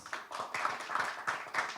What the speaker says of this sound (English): Just for that line, big round of applause.